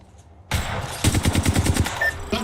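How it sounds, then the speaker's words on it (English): Automatic weapon fire in the video game Apex Legends: after a brief quiet start, a rapid, rhythmic burst of about ten close, loud shots, with the firing carried over a steady game soundscape. "Opening fire. Hey, they're shooting at me."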